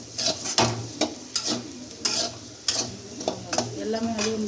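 Potato fry is being sautéed in a pan for a Tamil home meal: a spoon scrapes and clacks against the metal in irregular strokes over a constant soft sizzle, close and fairly loud.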